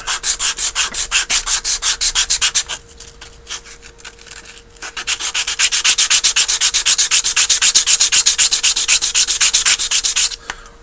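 Rhythmic back-and-forth sanding of a slot-car base with sandpaper, steady rasping strokes close up, pausing briefly in the middle before resuming.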